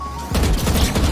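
A loud, close burst as Kayo's one-way flashbang pops in Valorant on Ascent. A sudden onset after a quiet hum is followed by a dense, crackling blast that holds for the rest of the clip.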